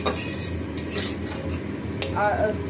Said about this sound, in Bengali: ফুলকপি আলু এই যে ভাজা করছি